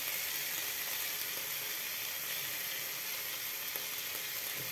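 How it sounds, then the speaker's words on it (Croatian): Stuffed chicken sizzles and fries steadily in a pan, a dense continuous crackle with faint stirring noises and no voices. "Piletinu sam okrenula bočno da mi se sve strane zapeku"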